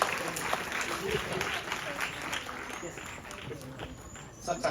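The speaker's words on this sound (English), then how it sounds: "Let us welcome him with a big round of applause." A Republic Day school gathering in Karnataka applauds the incoming chief guest, a KSRP battalion officer. Quiet, continuous clapping from a crowd sounds a little distant, with faint voices and a thin steady tone running above it.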